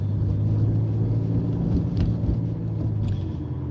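A minivan races along a road, its engine a steady low rumble with a few brief revving surges over constant road and tyre noise throughout.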